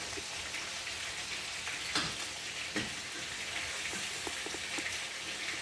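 Cheese-topped burger patties sizzle in a pan, a soft, steady frying hiss with faint crackles and occasional light pops, heard alone at low volume.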